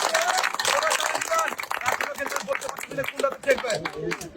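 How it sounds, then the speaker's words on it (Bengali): An audience claps loudly and steadily at a lively event. The dense clatter of many hands runs throughout, with a voice talking over it. "সবাই একটা জোরে তালি দিবেন, জোরে তালি দিবেন"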